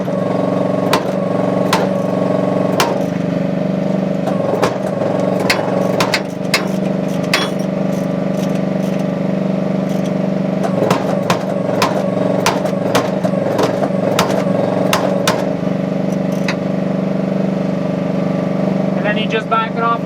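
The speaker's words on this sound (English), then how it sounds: "I'm going to start the engine" An engine runs at a steady idle with a low droning hum throughout, while sharp metallic taps and clicks from nearby work sound over it and a voice speaks.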